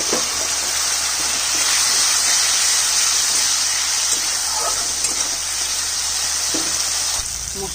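A spice paste with turmeric and a splash of water fries in a pan for a katla fish curry, making a loud, steady, close sizzle and hiss with faint stirring scrapes and no talking.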